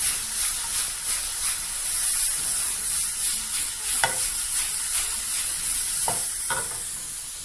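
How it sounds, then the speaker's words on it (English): Beef browns in a hot pan with a steady, bright sizzle and hiss, broken by a few sharp clinks and scrapes of a utensil stirring the meat. No voices. "Now just proceed to brown your meat."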